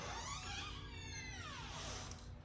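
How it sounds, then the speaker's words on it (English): A door creaks open slowly in one long, drawn-out, rising and falling squeal lasting a couple of seconds, alone and fairly faint. "The sound of a scary, creaky door is not what we're going for."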